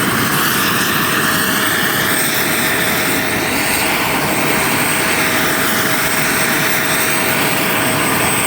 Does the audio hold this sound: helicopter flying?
yes